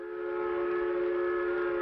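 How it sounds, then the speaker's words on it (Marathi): A toy train engine runs along its track with a steady, loud tonal hum or whistle-like drone that holds unbroken throughout, with no voices. "आणि आता पुन्हा या इंजिनानं दिशा बदलली आहे, ते परत उजवीकडून डावीकडे धावतंय"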